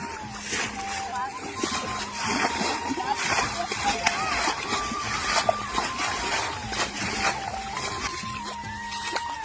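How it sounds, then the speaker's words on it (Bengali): Water is splashed and bailed repeatedly from a shallow, dammed-off section of a village pond to catch fish, with steady splashing and sloshing under ongoing talk throughout. "এখন জল ছেঁচবো এখানে"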